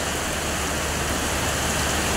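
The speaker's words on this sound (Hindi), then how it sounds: "कितना अच्छा बारिश हो रहा है देख सकते हैं" Steady, dense morning rain falls outdoors, a broad even hiss of drops on surfaces with no pauses. No voices or other sounds break through.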